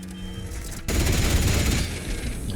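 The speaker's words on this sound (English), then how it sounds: "There's some gunfire in the background." Bursts of gunfire rattle in the Atomfall video game, beginning as a sudden, loud, dense volley that continues for over a second before easing slightly, with no speech over it.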